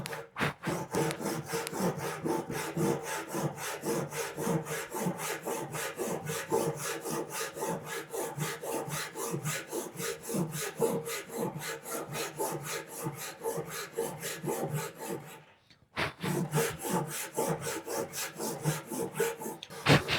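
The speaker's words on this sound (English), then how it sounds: "I'm going to start backing down and pulling all the way across, watching right about here where the saw makes contact with the top" A hand saw cuts a wooden tenon for a workbench's breadboard end, with steady rhythmic rasping strokes back and forth, close and fairly loud, and a brief pause near the end before the strokes resume.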